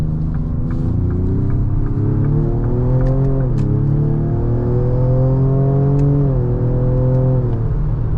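2026 Ford Explorer ST engine held in gear under manual paddle control through a corner, a loud steady cabin drone whose pitch climbs, dips at shifts and climbs again as revs rise and fall.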